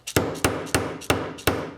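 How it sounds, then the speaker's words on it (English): A T-nut is hammered down into a drilled wooden knob in five sharp, evenly spaced hammer strikes, each ringing briefly before the next blow lands. "I put the T-nut back in and hammer it down"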